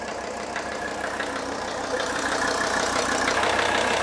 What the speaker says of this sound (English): this is a big diesel engine, and it's just not going to get hot standing here idling